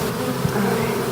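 A swarm of honey bees buzzes around a hive box, a loud, dense, continuous hum from many bees close by with no pauses.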